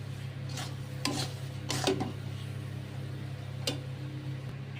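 A spoon scraping and rubbing through sweet tamarind pickle with chilli powder in a pan, a few irregular rasping strokes over a steady low hum, close and moderately quiet, no talking.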